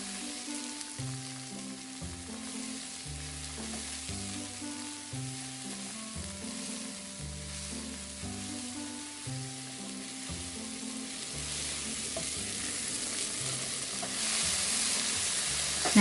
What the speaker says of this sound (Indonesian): Kalau minyaknya sudah panas, kita tumis bawang putih, daun bawang bagian putihnya, dan tomatnya.